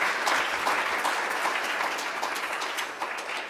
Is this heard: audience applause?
yes